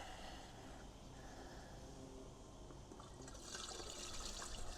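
Water pours steadily into a battery knapsack sprayer's tank while it is filled for feeding garden plants, a continuous close rushing wash that grows brighter and louder toward the end.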